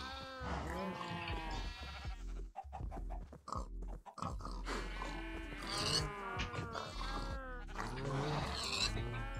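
Pigs oinking in a modded Minecraft survival game, a dense run of repeated grunting calls that stays loud and continuous throughout with no pauses.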